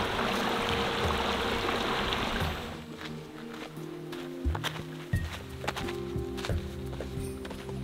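Shallow water trickles steadily across a stream crossing on a desert canyon hike near Tucson, then gives way to scattered splashes and footfalls as a hiker wades through, close and uneven.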